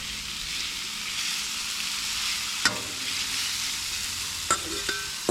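Shrimp frying in a hot pan alongside seafood, a steady sizzling hiss with a few sharp clicks and taps of utensils near the end.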